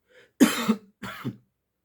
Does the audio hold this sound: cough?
yes